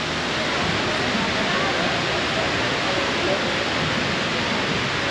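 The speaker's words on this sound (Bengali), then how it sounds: "দেখো কি সুন্দর জল পড়ছে" Waterfall with water pouring and crashing down into a pool below, a steady, loud, broadband rush that fills the whole scene without a break.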